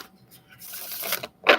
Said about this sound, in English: I keep on dropping cards when I'm shuffling.